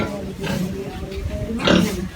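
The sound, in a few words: pigs on a farm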